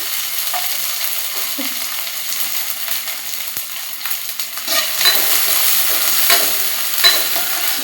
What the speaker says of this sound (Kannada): ಈಗ ಉಳ್ಳಾಗಡ್ಡಿ ಹಾಕ್ಕೊಳ್ತೀನಿ